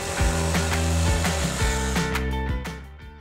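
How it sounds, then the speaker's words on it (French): A jigsaw cutting through a 12 mm MDF board for a six-sided tabletop, buzzing steadily and close with regular low pulses from the blade stroke, then trailing off near the end. "Puis je découpe avec une scie sauteuse."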